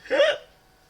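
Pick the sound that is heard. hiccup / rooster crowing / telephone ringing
hiccup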